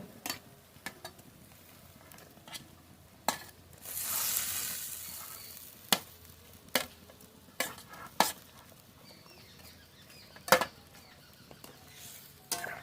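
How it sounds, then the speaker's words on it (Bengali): Fried shol (snakehead) fish goes into boiling curry with a loud, brief sizzling burst, surrounded by sharp clinks and stirring taps of a utensil against the pot; no one speaks. "ভেজে রাখা শোল মাছগুলো দিয়ে দেবো।"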